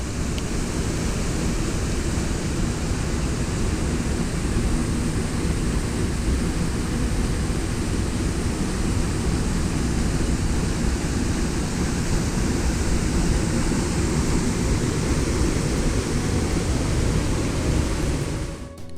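The Concord waterfalls on the west side of Grenada roar in a loud, continuous broadband rush of falling water, steady and unbroken for the whole stretch, heard up close with no voices.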